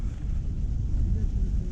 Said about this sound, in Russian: Ветер просто лютый, у меня вся палатка ходуном просто ходит.